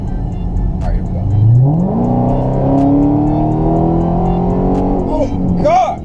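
A Dodge Charger SRT Hellcat accelerates hard, its engine rising loudly in pitch through a strong, close roar that holds at high revs. Excited shouting breaks out near the end.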